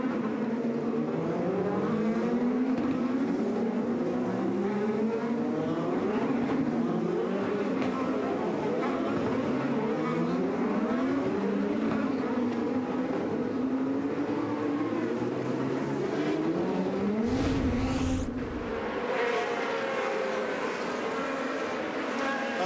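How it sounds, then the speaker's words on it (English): Sebastian Bourdais's IndyCar roars past at high speed on the 2013 Honda Indy Toronto street circuit, engine pitch rising and falling in loud, continuous sweeps as cars blow by, with commentary voices underneath. "Look at the speed of the cars on the freeway in comparison to Sebastian Bourdais blowing by there."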